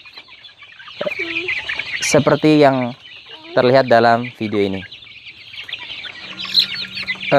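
Chicks clucking and peeping while eating feed, several close chirping calls in bursts, with a person talking over them.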